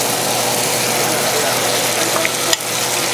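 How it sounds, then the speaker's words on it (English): Onions, garlic and jalapeños sizzling steadily in a hot frying pan, a close, dense hiss that stays constant, with a brief clink near the end. "You can hear the sizzle here."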